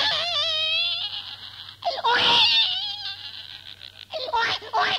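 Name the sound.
voice imitating a baby crying for milk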